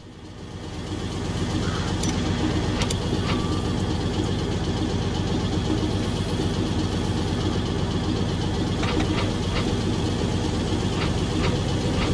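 An armored fighting vehicle engine in Metal Gear Solid V: The Phantom Pain runs with a steady, droning mechanical rumble. It fades in and then holds even throughout, with a few faint clicks on top.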